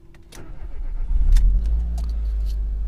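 A car running on E85 ethanol cranks and starts in warm weather, catching with a brief stumble before settling into a loud, steady low idle close by.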